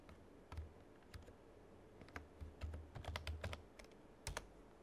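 Someone types a command on a computer keyboard at a Linux terminal: quick, close, crisp keystrokes in irregular runs with short pauses, in a quiet room with no voices.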